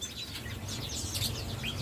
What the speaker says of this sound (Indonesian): Oh, burung-burungnya lagi melimpah, semalam baru datang dan sebagian juga belum dibongkar.